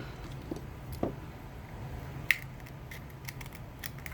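Scissors snip excess yarn off a small pom-pom with a few sparse, light cuts near the mic over faint background noise, and no one is speaking.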